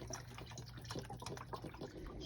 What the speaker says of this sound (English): She is now adding a large Tupperware full of water on top of the 2 packages of chicken broth